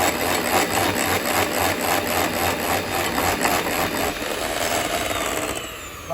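Lemon cheesecake filling being whisked briskly in a bowl, a steady rapid scraping and rattling of the whisk that runs loudly and continuously before easing off at the very end.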